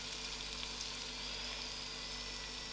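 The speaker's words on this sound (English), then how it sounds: "this brinjal has to come to a complete fry where it's almost going to get burnt, but don't burn it" Brinjal frying in a pan for wedding-style dhal, a steady soft sizzle of oil crackling evenly throughout with no pauses.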